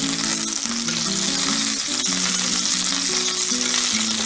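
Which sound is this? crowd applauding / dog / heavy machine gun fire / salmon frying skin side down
salmon frying skin side down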